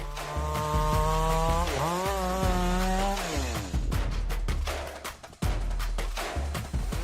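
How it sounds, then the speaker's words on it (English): A big chainsaw fitted with a 36-inch Tsumura bar and Stihl chain revs loudly and bites into logs, its engine pitch dropping under load and rising again, with rapid throttle bursts near and close. "This powerful chainsaw is equipped with a 36 Tsumura bar and Stylers chain."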